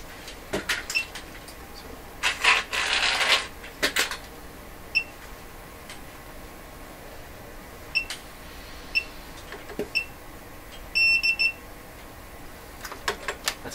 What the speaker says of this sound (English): That's my soldering iron that does that annoying beep.